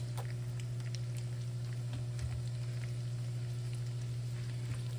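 Garlic and onions frying in a stick of melted butter make a faint scattered crackle under a strong, steady electrical hum.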